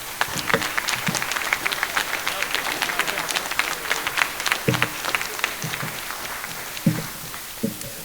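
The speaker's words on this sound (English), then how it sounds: "So please give them a huge round of applause." Audience applause rolls on for a school ensemble at the 2023 spring concert, steady clapping throughout with occasional shouts and cheers breaking through.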